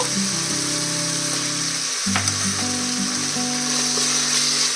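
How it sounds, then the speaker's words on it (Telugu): Ginger garlic paste fries in a pan for gongura mutton, a continuous bright sizzle layered over a steady humming tone that shifts pitch partway through. "ఇది కూడా బాగా వేగాలి. అల్లం వెల్లుల్లి పేస్ట్ వేగిపోయిందండి."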